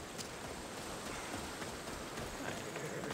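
Steady clip-clop of horse hooves in the video game Assassin's Creed Odyssey over a dense, continuous background wash, fairly close and even in rhythm.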